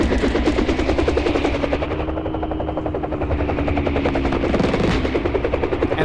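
A tank firing in a flight-combat video game mission, rapid rhythmic bursts of heavy gunfire over a constant droning engine roar, loud and sustained with no voices.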